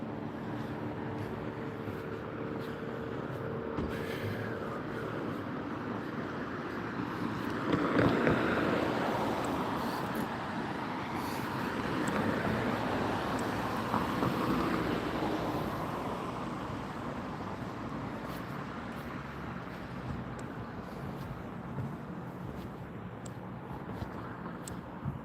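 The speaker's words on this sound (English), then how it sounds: "That wind is right out of the north-northwest." Cold wind blows outdoors during a live stream from outside, a steady rushing and buffeting roar against the microphone that swells and eases over about 25 seconds, with no one talking.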